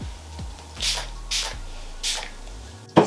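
Heat protectant is sprayed onto a section of hair during a silk press, heard as three short, close hissing bursts spaced about a second apart, with faint handling noise in between.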